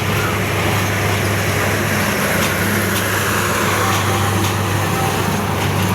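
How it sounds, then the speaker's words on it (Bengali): A steady, loud rumble of a passing green intercity train in Mymensingh, with a low droning engine hum and broad rushing noise that holds throughout. "এই যে দেখেন ট্রেন যাচ্ছে"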